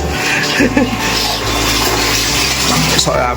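An electric water pump motor hums loudly and steadily while water gushes and splashes close by, with voices chatting briefly over it.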